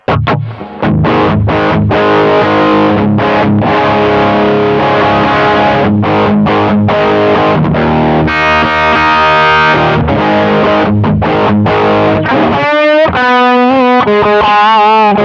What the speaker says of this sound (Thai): อ่ะต่อไปเป็นเสียงแตกนะครับ